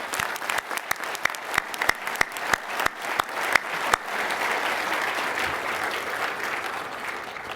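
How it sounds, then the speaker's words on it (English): Applause at a finance association awards meeting, opening with a few sharp, separate claps from individuals that quickly swell into a broad, steady wave of clapping from a large audience. "Please join me in a round of applause for Jose Schenkman."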